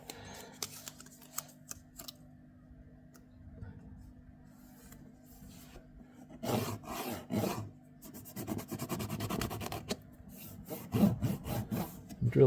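Close, rasping drill bursts boring holes in a speaker grill start and stop repeatedly, growing busier and louder toward the end, with faint scraping between passes.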